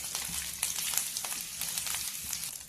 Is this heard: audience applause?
no